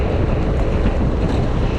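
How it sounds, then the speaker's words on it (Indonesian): Heavy wind buffets the microphone while riding a motorcycle, giving a loud, continuous low rumble and roar with no pauses. "Atau mungkin yang kedengeran malah cuma suara ambient sama suara angin doang nih kayaknya"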